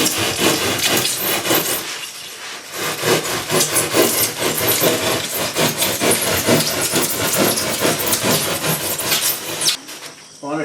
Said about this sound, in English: don't saw into the wife's fabric table